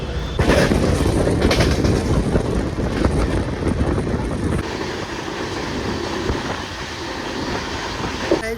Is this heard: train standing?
yes